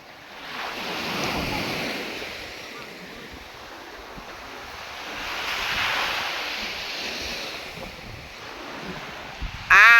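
Sea wind and waves at a beach, with surf swelling and receding in broad washes and wind buffeting the microphone, loud and continuous, ending with a brief sharp bump.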